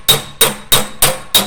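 Five sharp, evenly spaced metallic blows of a hammer on a sheet metal panel backed by a dolly, loud and close, ringing briefly after each strike with no talking.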